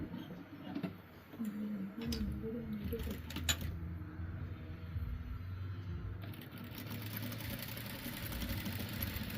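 A sewing machine stitches along the folded hem of a party frock, a steady mechanical whirr with faint ticking that runs continuously at close range with no talking.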